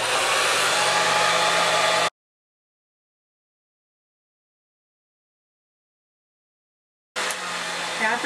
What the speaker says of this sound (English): part right here, that you stick the blow dryer in. So it looks like this, and then I just turn it on